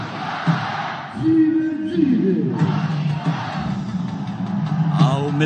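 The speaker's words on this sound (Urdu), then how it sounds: "وہاں پر پاکستان زندہ باد کے نعرے بھی گونج رہے ہیں" A crowd at the Wagah border raises "Pakistan Zindabad" slogans, a loud sustained chorus of voices rising and swelling in chant-like phrases, close and continuous.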